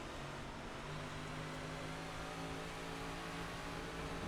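A race car engine drones steadily and loud in iRacing's dirt 358 Modified race at Bristol, a continuous mid-pitched roar with no speech.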